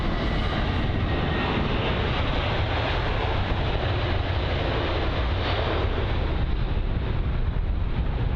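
A Singapore Airlines Boeing 747 lands at London Heathrow, its engines roaring loud and steady in a broad continuous rush, with wind buffeting the microphone throughout.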